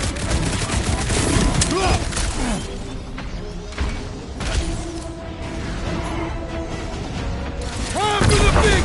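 Chaotic gunfire and clattering impacts from a Guardians of the Galaxy combat scene fill the whole stretch, loud and dense, with character voices talking over the shooting.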